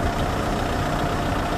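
A car idles close by next to a parked blue Landini tractor, giving a steady, fairly loud engine rumble with broadband noise and no change over the short stretch. No speech.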